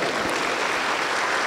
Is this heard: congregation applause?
yes